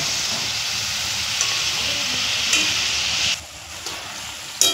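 Murali snacks deep-fry in hot oil over a low flame, a dense, continuous bubbling hiss that runs steadily close by, easing briefly near the end with a few faint clinks.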